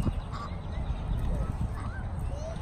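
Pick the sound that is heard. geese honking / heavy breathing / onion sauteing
geese honking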